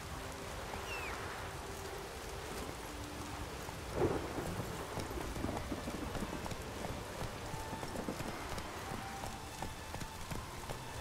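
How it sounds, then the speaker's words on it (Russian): Steady rain pours during a thunderstorm in The Witcher 3 while riding on horseback, with a soft thunder rumble near the middle and faint hoof clopping under the constant hiss. "Дождь идет, погода испортилась, но все равно красиво."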